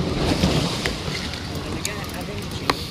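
Strong wind blows over the sea during rainy, stormy weather on a fishing trip, a steady rushing roar buffeting the microphone with a few faint clicks, no talk over it.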